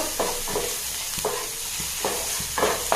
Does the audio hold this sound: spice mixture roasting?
yes